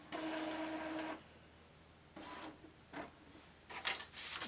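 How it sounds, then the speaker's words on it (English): An Epson EcoTank ET-2800 all-in-one inkjet printer printing, with close whirring carriage passes separated by pauses: a long pass at first, then shorter bursts and a clattering stretch at the end. "So now we're printing something else."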